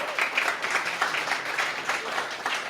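A crowd claps at a startup pitch competition, a steady, dense round of applause from many hands held at even strength for nearly three seconds, with no speech on top.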